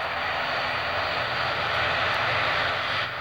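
Fokker F-27 300M troop transport of the Royal Netherlands Air Force roars loudly at takeoff during an air display at Leuchars, a steady broadband turboprop rush with no talk.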